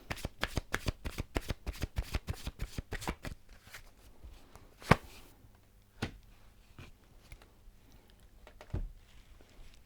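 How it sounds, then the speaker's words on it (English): Romance Angel Oracle cards are shuffled in a rapid riffling run of crisp flicks for a few seconds, followed by scattered soft card taps and a couple of sharper slaps, heard close with no voice. "Romance Angel Oracle cards"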